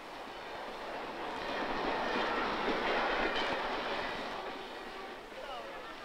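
A train rumbles steadily at a railway station half an hour from Peking, swelling louder in the middle then easing off, with a faint rhythmic clatter of wheels beneath the broadband roar.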